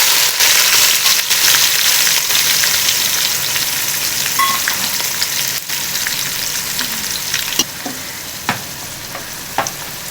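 Sliced onions fry hard in hot oil for chicken biryani, already seasoned with cardamom and bay leaves, producing a loud, continuous sizzle and crackle with occasional pops and stirring scrapes, and no voices.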